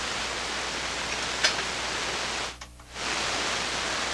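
Steady broad hiss of static from a vintage SP-600 communications receiver running at 92 volts, constant and fairly loud, with a brief dip partway through, no voices.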